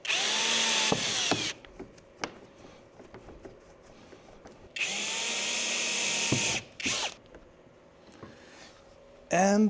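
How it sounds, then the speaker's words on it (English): A power drill whirs in two long bursts while drilling two holes during a Volkswagen T5 van front-end conversion, each winding up and down, with short quieter gaps of handling noises between and a brief third burst at the end. "Okay, and we need to drill through 2 holes."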